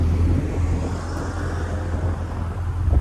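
Ferrari 488 GTB twin-turbo V8 cruising on city streets in Business Bay, Dubai, heard from inside as a steady low rumble that holds evenly throughout with no voices.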